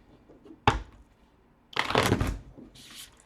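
Tarot cards being shuffled, two bursts of riffling separated by a pause, the second longer and fuller, with a faint trailing rustle at the end.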